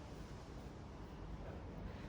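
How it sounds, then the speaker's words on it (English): Strong outdoor wind gusts across the microphone, a continuous dense rumbling buffet that stays fairly even and fills the whole stretch. "Super windy today."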